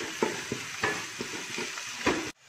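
Onions with a pinch of salt sautéing in a pan for a Kottayam-style beef roast, a continuous sizzle broken by several rhythmic scrapes of a spoon stirring, ending abruptly.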